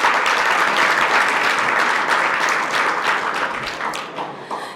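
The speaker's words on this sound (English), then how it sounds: "Can we please give another round of applause for Mr." At a Black business networking event, an audience gives a warm round of applause for an honoree, a dense continuous wash of clapping that slowly fades toward the end.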